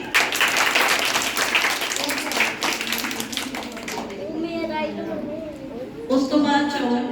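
An audience at a school annual day bursts into dense clapping that fades after a few seconds, giving way to a voice speaking over the hall, then a brief swell of clapping returns.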